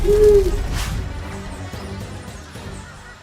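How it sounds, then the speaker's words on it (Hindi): An owl hoots from a tree branch in a haunted forest setting, a low tonal hoot near the start that fades under a dark, rumbling ambient bed with a soft crash-like thud. "पप्पू झट से उस पेड़ पर चढ़ जाता है और देखता है कि एक बहुत भयानक सा उल्लू पेड़ की डाल पर बैठा हुआ है।"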